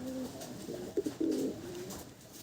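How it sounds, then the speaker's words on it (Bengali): Abluk Madrasi pigeon cooing nearby in a loft, a few low throaty coos over a steady background. "একটা আবলুক পায়রা শখ করাবো আবলুক মেদ্রাসি পায়রা"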